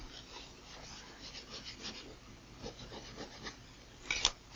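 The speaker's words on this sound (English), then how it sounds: "The last bit just scrapes off with our sub card." Plastic card scraping leftover sticker residue off a retro video game box, a soft continuous rasping rub with short strokes, close and quiet, ending in a brief sharper scrape.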